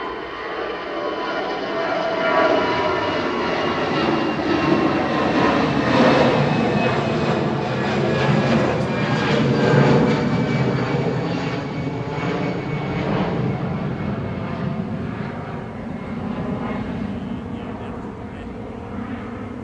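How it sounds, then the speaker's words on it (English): An EasyJet Airbus A320 Classic departs Manchester Airport for Palma de Mallorca, its jet engines a loud, steady, broad roar that holds throughout before easing slightly at the end. "this is EasyJet headed off to Palma de Mallorca."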